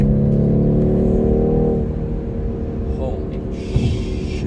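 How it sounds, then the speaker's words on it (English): The inline six-cylinder engine of a 2021 BMW 4 Series coupe in Sport Plus mode pulls hard with a rising tone, then eases off into a low rumble near the end. "this inline 6-cylinder sounds better than you think it would"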